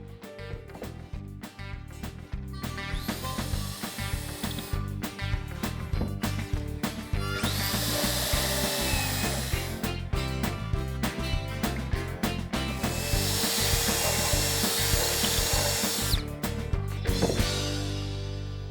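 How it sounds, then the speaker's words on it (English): A power drill bores angled screw holes into a wooden board for a pull-out pantry, whirring in long continuous bursts that grow louder and steadier toward the middle and end, with shorter tool noises between. "Now we've got the holes drilled."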